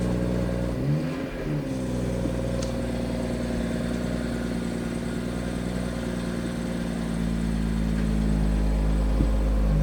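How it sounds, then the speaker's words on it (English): A BMW M140i engine runs steadily at idle with a low, constant hum, briefly revving early on before settling, close and fairly loud. "it certainly sounds as though it's running fine"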